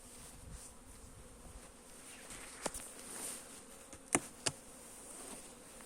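Honeybees fly around the hive in spring, giving a faint, soft buzzing drone with a few louder passes as individual bees zip close by.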